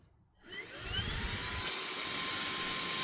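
A Fanttik X100 Mix cordless handheld vacuum starts up from near silence and settles into a steady, loud whirring hum with a rising motor whine. It runs alone, with no talk.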